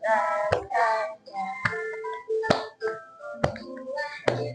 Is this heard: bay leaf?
no